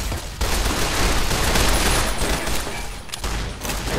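Sustained gunfire in the video game Fallout New Vegas, a dense rattling fusillade of shots lasting several seconds with a brief lull near the end, fairly loud and without talk.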